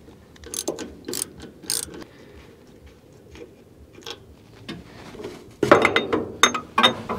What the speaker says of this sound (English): let's see if we can pop this master cylinder out and see if there's anything in there